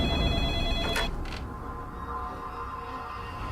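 A telephone rings in a short electronic trill, a couple of bright bursts near the start, then fading into a quiet, steady room hum with no one talking.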